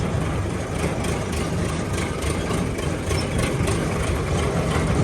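The engine of an 855 tractor runs with a loud, steady low diesel rumble and chugging throb. The tractor is hauling a straw trolley loaded with bricks, and the noise holds constant and close throughout.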